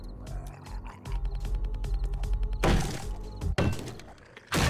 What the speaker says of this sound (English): If you're wondering what that sound is, like a dun-dun-dun-dun sound, it's a land shark.